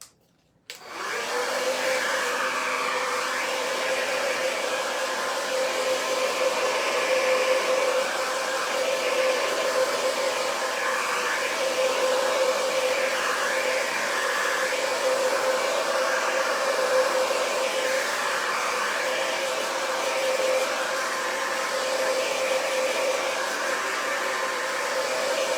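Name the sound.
blow dryer on cool setting drying a transfer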